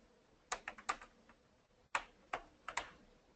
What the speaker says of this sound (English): You can begin by typing the first few letters and a list will appear.